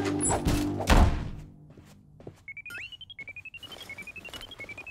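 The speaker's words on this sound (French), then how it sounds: "Arrête cette sonnerie infernale!" An electronic alarm rings loud and insistent in a cartoon, a repeating beeping tone that starts after a couple of heavy thumps and knocks, then keeps pulsing rapidly to the end.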